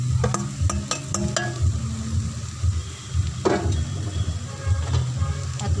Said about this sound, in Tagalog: At ilagay natin ang kinayod na niyo guys.